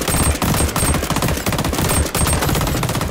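A rapid-fire video game gun fitted with a muzzle booster fires in loud, dense automatic bursts, close and punchy, with brief gaps between strings of shots.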